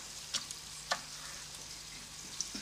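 Wild boar meat frying in a pan with fat, a soft steady sizzle punctuated by a few sharp clicks of a utensil, fairly quiet and with no voices.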